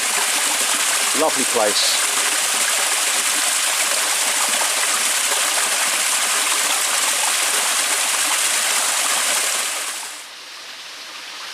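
Spring water pours steadily out of Barton Spring in a continuous broadband rush, close and loud, with a brief bird call early on and a short spoken remark over the flow before it drops quieter near the end.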